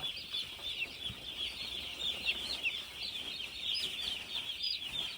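Many chickens cluck and chatter continuously in a busy, steady chorus, moderately close, with no speech, inside a poultry farm shed.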